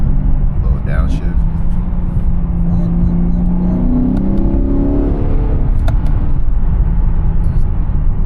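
A 500 hp Lexus RC F with a newly installed intake downshifts, its engine droning loud and steady close by, with a rising pitch sweep midway, while people talk over it.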